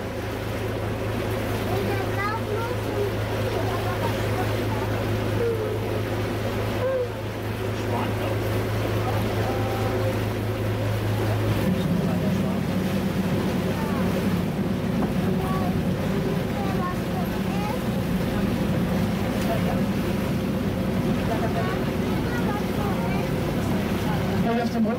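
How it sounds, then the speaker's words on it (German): A tour boat on the Alster in Hamburg turns around, its engine a steady low drone with water and wind noise, the pitch shifting partway through, continuous and close throughout. "Ja, wir wenden und fahren dann wieder Alster-Rundfahrt wieder zurück auf die Außenalster."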